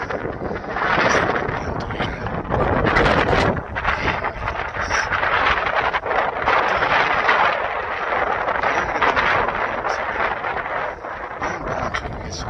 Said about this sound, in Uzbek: shunaqangi yengil shamol esib turadi.